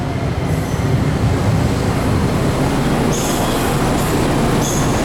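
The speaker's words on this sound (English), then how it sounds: "I just caught a DART train coming." A DART light rail train rumbles steadily nearby as it pulls in, with a continuous low roar and occasional high metallic squeals from the wheels on the rails.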